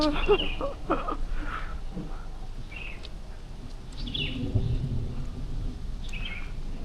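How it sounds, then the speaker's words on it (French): Low rumbling of distant thunder rolls beneath an outdoor ambience, with scattered bird chirps and a light patter of rain. "Et on entend l'orage."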